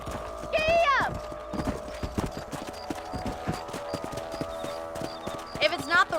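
Steady hoofbeats of a horse galloping in Red Dead Redemption, a rapid clip-clop rhythm carrying through the whole stretch, with a whinny at the start and another near the end, faint game voices in the background.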